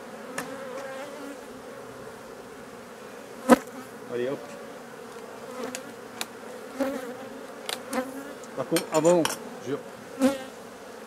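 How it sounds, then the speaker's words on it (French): Honeybees buzz continuously around an open hive during a honey harvest, with scattered sharp knocks and clatter of hive equipment as someone speaks briefly in French. "pour éviter que toutes les abeilles sortent"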